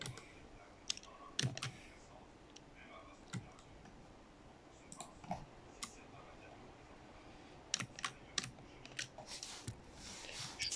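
Irregular clicky taps like keys being struck, in short clusters with gaps, close and soft against a quiet room.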